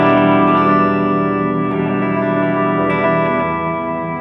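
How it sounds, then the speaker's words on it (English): An electric guitar note sustained by a TC Electronic Infinite sample sustainer pedal rings as a dense, steady drone with reverb. It holds evenly and fades slightly toward the end, with no voice. "I'm going to create a tail, and now my direct sound is being sent also through the input to reverb control."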